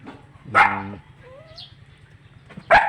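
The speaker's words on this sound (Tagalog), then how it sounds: "ang kulit-kulit ng mga aso, mga doggy." Two loud, close dog barks about two seconds apart, with a soft whine in between.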